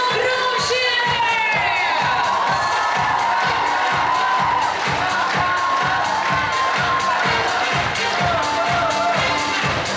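Crowd at a Miss and Mister university pageant award ceremony cheering, whooping and clapping for a newly named runner-up, a loud, sustained roar of voices and rhythmic applause filling the whole stretch.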